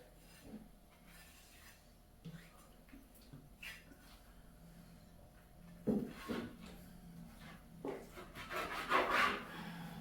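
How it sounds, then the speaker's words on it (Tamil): A knife cutting a large tuna into small pieces for frying, with soft scattered chops and rubbing scrapes that come as uneven, faint knocks, growing louder and busier toward the end, with no talk. "பொறிக்கிறதுக்காக தான் சின்ன சின்ன கட் பண்ணுறோம்"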